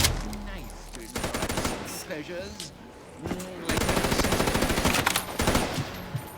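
Rapid machine-gun fire from a death machine weapon in a wave shooter video game, loud bursts of automatic shots in long volleys, with someone talking over the shooting.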